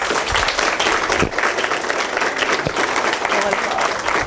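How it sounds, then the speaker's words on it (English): Round of applause at a high school diploma transition ceremony at a residential treatment center, steady clapping from a gathered group with faint voices mixed in. "let's give her another round of applause"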